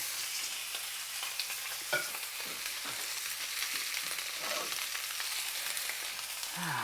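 Lamb chops sear in a very hot pan as scottadita di agnello, giving a steady, close sizzle with a few clinks and scrapes of utensils, no talking.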